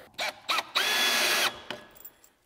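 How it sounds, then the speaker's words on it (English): Cordless power drill driving screws into a timber stair stringer for an open-frame staircase: two short bursts, then a sustained whine of over half a second as the screw pulls the wood tight, followed by a brief tail, close and clear with no talk. "it'll make like a slight draw onto the motor of the drill"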